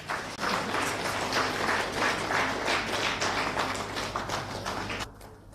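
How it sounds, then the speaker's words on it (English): Audience applause at a national skill conference as guests are called to the dais, a steady patter of clapping over a low electrical hum, fading near the end. "Give them the big round of applause"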